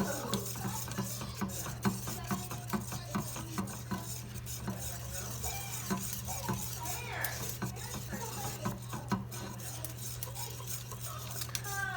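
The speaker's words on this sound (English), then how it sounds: "we're just gonna keep whisking this thing over heat" A whisk scrapes and ticks steadily against a pan as a cheese sauce for mac and cheese cooks over heat, close and continuous over a low steady hum, with no talking.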